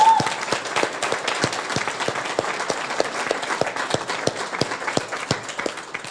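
Applause at a school graduation ceremony, an audience clapping in a large hall with sharp individual claps standing out from a steady wash, sustained for several seconds and gently fading.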